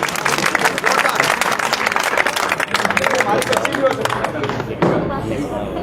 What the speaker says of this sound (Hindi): सभी से आग्रह करूंगा एक बार 3 बच्चों के लिए सभी सामूहिक ताली बजाओ दोबारा।